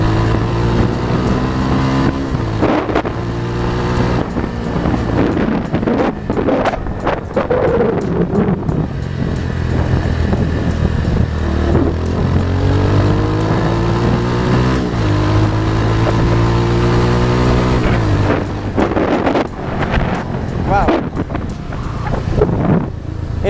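An Italika 250Z motorcycle engine drones steadily while riding in Mexico City, its pitch rising and falling through gear changes, with heavy wind rush over the microphone.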